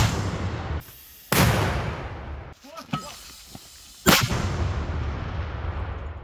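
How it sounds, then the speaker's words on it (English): Heavy booming blasts from a 120 caliber mortar fired by servicemen in the Ukraine fighting, two loud sharp reports each followed by a long rumbling tail, with outdoor noise between them. "Servicemen prepare a 120 caliber mortar for use in a matter of minutes."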